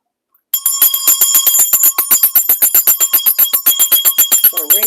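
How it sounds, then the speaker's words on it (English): A bright bell rings rapidly and loudly without pause, a continuous metallic trill of fast repeated strikes with sustained high tones. It is heard close up and alone. "Let's ring that bell."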